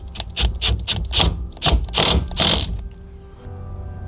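Impact wrench tightening the lock nut on a MOMO steering wheel being fitted to an NA Miata, heard as several loud, close rattling bursts in quick succession before it falls quiet.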